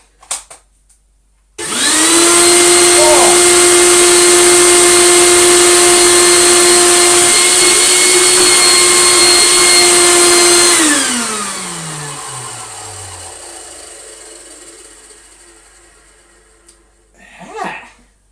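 A Goblin AquaVac 620 vacuum with a hole that leaves it blowing out instead of sucking switches on with a loud, steady high-pitched whine and motor drone, runs for about nine seconds, then spins down and fades.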